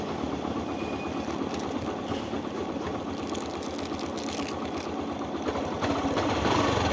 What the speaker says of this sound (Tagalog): nakamotor tayo papunta ng lot 18